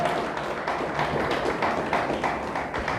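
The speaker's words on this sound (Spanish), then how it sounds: "¿Le damos un fuerte aplauso a Dios?" A church congregation claps steadily for God, a dense spread of many hands tapping in a continuous, moderately loud patter with no clear voices on top.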